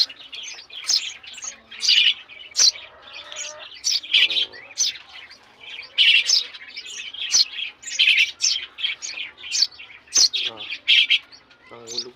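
Several Eurasian tree sparrow chicks chirp and squawk insistently, begging for food at close range with a dense, overlapping run of high tweets. A few faint low voices sound in the background.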